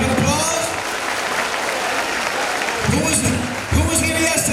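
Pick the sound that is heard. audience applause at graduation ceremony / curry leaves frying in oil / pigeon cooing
audience applause at graduation ceremony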